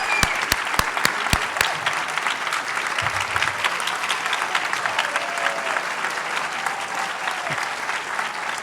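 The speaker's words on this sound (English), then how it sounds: "Can we have a round of applause?" Sustained applause from a lecture audience, dense and steady throughout, with a few sharp nearby claps at the start.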